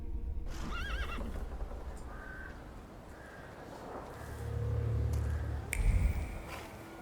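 Horse in The Thaumaturge neighing loudly near the start, followed by soft hoof clip-clops and shuffling in a quiet game scene.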